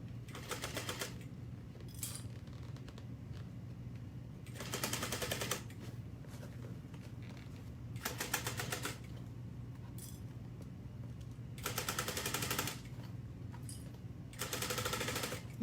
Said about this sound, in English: And now I'm just going to continue sewing at a 1/2 inch